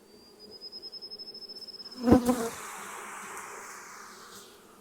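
Bees from a honeybee swarm buzz around hive boxes, a close droning hum with a rhythmic pulsing whine, then a loud knock or thump and a softer continuing buzz afterward.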